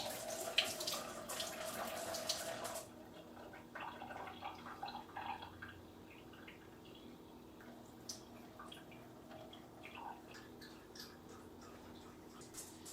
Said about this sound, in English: tip it upside down and like keep my hand over the top so that the potting medium doesn't fall out, and drain it out of the top